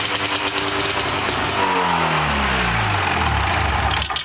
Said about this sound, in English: run your sled until it's out of gas